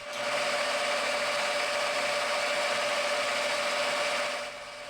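A lathe runs steadily, cutting brass with an even, continuous hiss and a faint ringing tone, then the cutting stops near the end.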